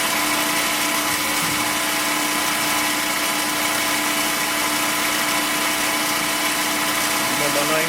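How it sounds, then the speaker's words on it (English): A Tormach PCNC 1100 Duality lathe tool cutting a motorcycle timing part, a steady, loud machine whine and hum with a continuous high hiss throughout. "You'll probably hear the tool rubbing. A little bit of chatter maybe."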